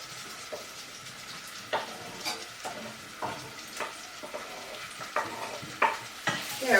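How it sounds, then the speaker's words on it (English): Boiled beans being eased into hot oil for a Macedonian tavche gravche, with a continuous crackling fry broken by repeated sharp spatula scrapes and stirring knocks, close and unaccompanied by speech. "And now we're going to put it in the hot oil gently."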